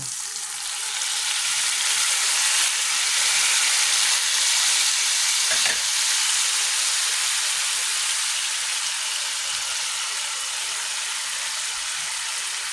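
Canned tuna sautés in a pan for a simple home lunch, a continuous bright sizzle and hiss that swells slightly and then holds steady, close by with no voices.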